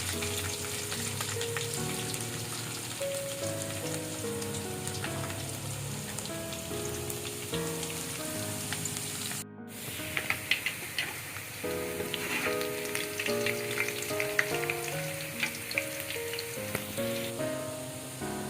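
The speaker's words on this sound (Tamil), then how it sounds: "பூண்டு நல்லா எண்ணெயில போட்டு" Chopped garlic and grated ginger frying in hot oil for chana masala, a steady close sizzle and crackle with a brief stir partway through.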